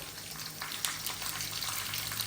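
Mustard seeds and dried red chilies fry in hot coconut oil for a Kerala sambar, giving a steady close hiss and sizzle with a few faint crackles and pops.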